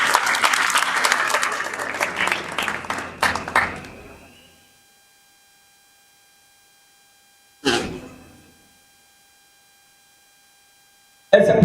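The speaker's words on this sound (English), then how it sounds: "Please just clap for them." A burst of audience clapping fades out after a few seconds, followed by silence, then a short renewed clap and a sudden final sound.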